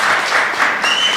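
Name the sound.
applause at a meeting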